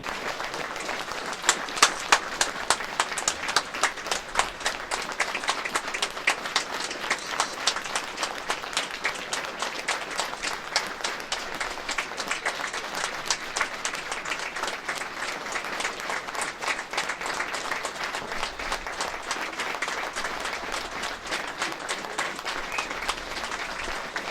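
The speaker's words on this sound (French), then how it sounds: "après ce tonnerre d'applaudissements pour Lilian Camberabero de la part de tous les supporters" Rugby supporters at a Fédérale 1 match give a long, sustained round of applause, dense and steady throughout with a few louder claps near the start, heard from some distance as a broad crowd wash.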